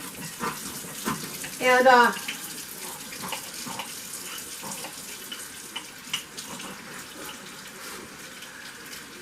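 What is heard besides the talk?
tap water running while washing glass canning jars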